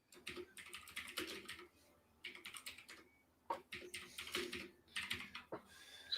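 Clacking keystrokes on a mechanical computer keyboard, typed in quick irregular bursts with short pauses between them, close and fairly loud, with no one talking.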